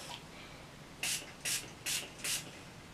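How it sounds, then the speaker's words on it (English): Four short bursts of rose floral facial toner from a pump spray bottle, evenly spaced about half a second apart, close and crisp against a quiet background. "I just spray on some of the Rose Floral Toner"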